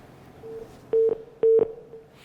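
Telephone connecting tones on a Pakistani morning TV show as a caller is put through on air: a short series of steady beeps, two of them loud, clean and close, with no talk.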